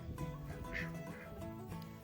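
Farm ducks quack faintly and intermittently in the background, soft and somewhat distant.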